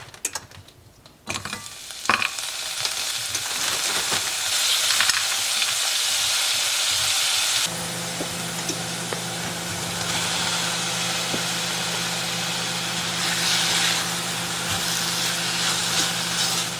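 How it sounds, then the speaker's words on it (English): Sausage and vegetables frying in a pan, a steady loud sizzle that starts after a few clattering handling sounds and continues evenly, close up with a low hum in the background. "we're gonna fry up our sausage and vegetables"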